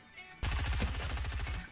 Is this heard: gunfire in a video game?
yes